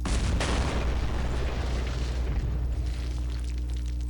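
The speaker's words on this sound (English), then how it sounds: "Our AT gun has a shot, and we can extract him." An anti-tank gun fires a single loud, deep boom in a WWII strategy game set on the Western Front, with a rumbling tail that fades over several seconds and no talking.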